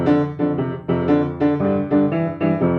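A swing rhythm played as short, bouncing, lilting chords with uneven long-short spacing, close and fairly loud, with no talking.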